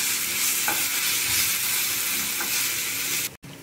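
Spring roll vegetables with red chilli sauce being stirred in a hot pan, a continuous close sizzle with occasional scraping strokes of the spoon, ending in a brief abrupt cut.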